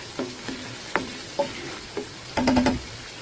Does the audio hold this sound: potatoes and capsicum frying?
yes